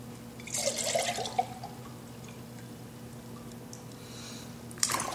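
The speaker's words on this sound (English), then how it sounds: "pour in the glaze." Liquid glaze is poured into a ceramic teapot during pottery glazing, making a short gurgling, splashing pour at the start, then a quiet stretch and a brief splash at the end.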